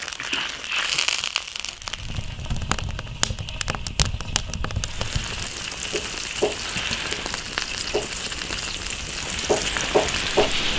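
Fatty pork belly stir-fries in an iron wok as its oil renders out: a loud, continuous close sizzle with scraping and stirring clatter throughout and no talk.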